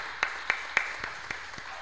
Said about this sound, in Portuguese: As palmas engrandecem o Senhor Jesus